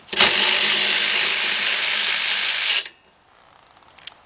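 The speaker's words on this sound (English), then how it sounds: "So I'm taking my 15 millimeter, my 3/8 drive, my cordless ratchet," A cordless 3/8-inch drive ratchet runs in one continuous loud, close buzz for nearly three seconds while backing off 15 mm nuts on a Ford Fiesta engine, then stops, leaving near silence with a faint click.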